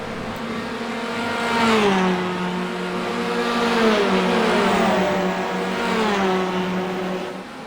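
TCR touring race car in iRacing, engine droning loud and steady while revs climb and drop through gear changes from fifth down to fourth, with harmonic pitch sweeps falling at each shift.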